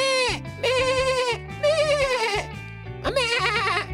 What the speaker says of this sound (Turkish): Merhaba, ben bir kuzuyum.